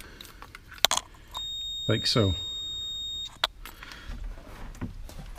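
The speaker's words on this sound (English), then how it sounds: "when it finds continuity it beeps" A steady electronic beep from a multimeter continuity test sounds for about two seconds, clear and close, with brief handling clicks and a short spoken phrase around it.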